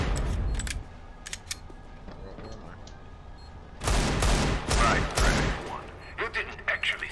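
Rapid gunfire bursts in the CS:GO Phoenix co-op mission, loud and close, opening the stretch then returning as clustered volleys around the middle, with quieter game ambience between the shots.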